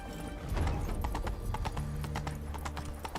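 Roach, a horse in the video game The Witcher 3, gallops with rapid, loud clip-clop hoofbeats and a brief whinny, the pounding hooves continuing over a low game soundscape.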